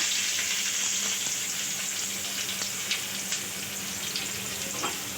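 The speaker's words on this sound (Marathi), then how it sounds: "एक चमचा जिरा टाकल्यानंतर हा कांदा टाकायचा" Onion sizzles steadily in hot oil with spluttering mustard seeds and a spoonful of cumin, a dense, continuous frying hiss close by. A few faint stirring clicks rise above it, with no talking.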